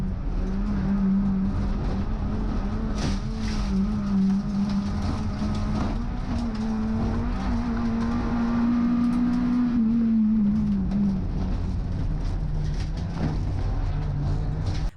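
Rallycross hot hatches race at Lydden Hill in a steady engine drone with a sustained tone that rises and falls as cars push through turns. The sound is loud and continuous throughout, with faint mechanical clatter and no speech.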